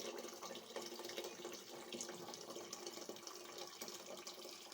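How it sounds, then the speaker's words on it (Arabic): Hot water poured into a pot for harira soup, a faint but continuous hissing splash that holds steady throughout. "ندير هنا الماء السخون"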